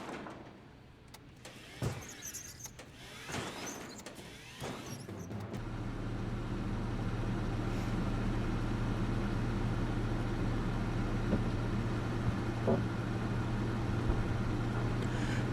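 A rental van stuck on a dirt track in a movie scene, with scattered knocks and thumps at first, then a steady loud engine drone and the wheels grinding on as it strains.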